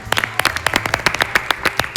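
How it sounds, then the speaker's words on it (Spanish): A studio audience claps at a television panel talk show, a short burst of brisk, crisp applause from a small crowd, close and lively. "Fuerte el aplauso."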